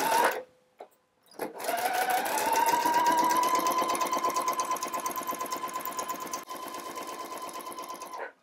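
A domestic sewing machine runs steadily, stitching a 5/8 front crotch curve on jumpsuit pants, with a quick start-and-stop backstitch at the beginning before a long continuous run of close, loud, rapid needle strokes.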